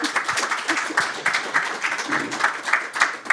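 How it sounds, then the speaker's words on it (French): A live audience claps to welcome a guest at a talk on bouncing back after business failure, a moderate, uneven patter of applause with distinct individual claps throughout. "Bonjour Anthony Strecher, sous vos applaudissements."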